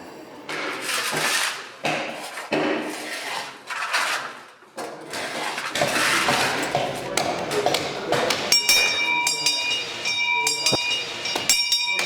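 A bell rings with sustained metallic tones partway through, amid clattering and shuffling noises of a busy room, with people talking nearby.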